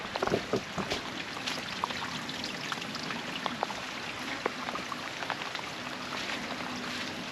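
Water pours steadily out of the lid of an overflowing IBC tank outdoors, a continuous splashing trickle with scattered drips and no talking.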